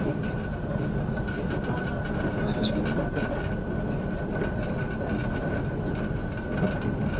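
A train rumbles steadily along the rails with a continuous low roar and faint rhythmic clatter, heard from inside a carriage of the Indian Pacific, with no talking.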